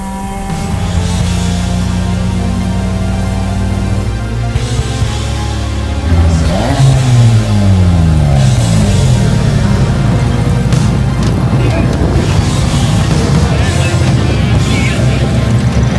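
A Honda Civic race car engine roaring loud and close during an endurance race at Clark Speedway, holding a steady drone, then climbing in pitch as it accelerates and staying at a high, sustained howl.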